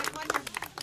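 Brief burst of audience clapping at a gathering, a dense patter of hands over less than a second with voices mixed in.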